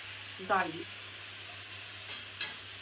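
Garlic, yellow bell pepper, mushroom, capsicum and onion sizzle in a pan with a steady faint hiss, while a voice speaks briefly and two quick scraping stirs follow.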